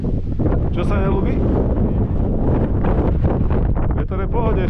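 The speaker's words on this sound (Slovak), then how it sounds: "Vietor je v pohode, však není veľký." Wind on a winter climb of Satan peak (2422 m) in the mountains, a loud continuous rush buffeting the microphone throughout, with people talking faintly underneath.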